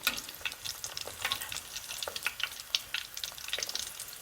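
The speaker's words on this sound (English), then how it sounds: "When the tomatoes are browned, you want to flip them and fry them on the other side." Slices of green tomato fry in a pan with a crackling sizzle and scattered sharp pops and spatters, fairly quiet and close, with no talking.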